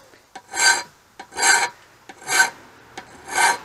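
A metal file rasps across the choil of a knife blade in four slow, even strokes, each a loud, close scraping swell, with light taps between strokes.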